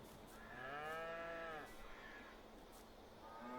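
Cows in Farming Simulator 22 give a long, loud drawn-out moo followed by a shorter one, with a low steady game background.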